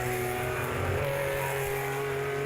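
Vintage Group 5 race cars over 2 liters roar at a distance, a steady droning engine sound with sustained tones, fairly faint and without talk.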